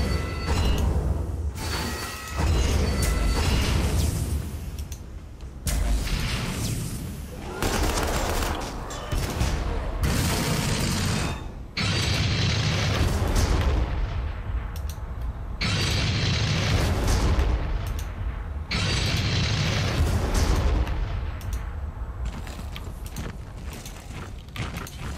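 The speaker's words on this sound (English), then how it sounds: "Rush in with the tanks." Tanks of an Ork army rush forward in Armageddon: Da Orks, with repeated loud booming cannon blasts and bursts of gunfire rolling on and off amid mechanical creaks and rumbling over about twenty-five seconds.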